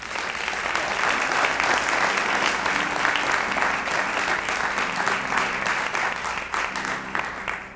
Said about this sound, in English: we accept this award on their behalf with a nice round of applause